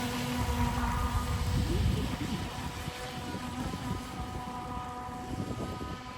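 A motorboat runs on plane at about 30% throttle, its steady engine drone mixing with rushing water and wind noise throughout, fairly loud and continuous.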